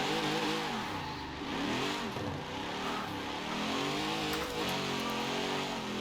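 A Mercury Cougar Eliminator driven in the racing game Forza Horizon 4 revs its engine continuously, rising and falling through gear changes as it accelerates, loud and close with no talking.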